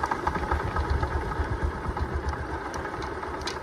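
A motorcycle engine idling at a roadside stop between Bhojpur bazar and Bokhim, a steady close low chugging rumble with no talk.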